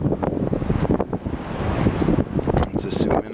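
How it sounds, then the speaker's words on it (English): Steady wind buffeting the microphone outdoors, a low rumbling roar that swells and dips throughout with no clear pauses. "it's windy out here"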